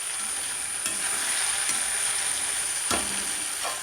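Small pieces of ginger and green chillies fry in a pan on a low flame, giving a steady, even sizzle with a few light stirring scrapes and no voices.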